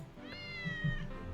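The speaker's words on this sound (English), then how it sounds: "The cat meowed as if in assent." A cat in the visual novel game Taisho Alice gives one drawn-out, rising-and-falling meow, clear and fairly close over a quiet background hum.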